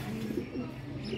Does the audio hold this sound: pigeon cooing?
yes